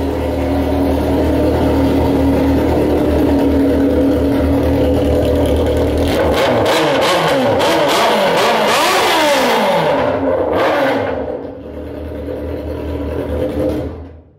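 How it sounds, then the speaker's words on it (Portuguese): A Yamaha XJ6 motorcycle engine revving very loudly up close, rising and falling through several throttle blips before dropping back to a rough idle. "Acho que é a moto mais alta que eu já ouvi na vida."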